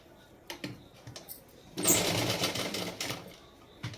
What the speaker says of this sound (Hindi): वहाँ से इसकी सिलाई कर देना है